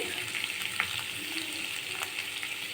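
A potato mixture fries in a pan with a steady, bright sizzle, broken by a few faint scrapes of stirring. No voices are heard.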